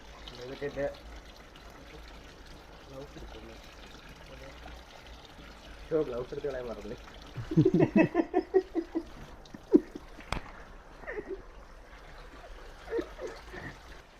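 A household tap runs water for washing clothes, pouring in a steady stream beneath people talking close by.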